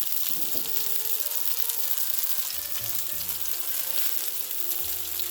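Pears sear in a hot pan with a dense, steady sizzle and hiss, close and continuous, with a few soft clinks of the pan underneath and no voices.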